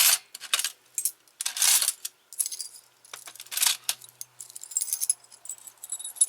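A handful of assorted metal keys, including old skeleton-style ones, jangle and clink in bursts close up, bright rattling shakes separated by short pauses, with no voices.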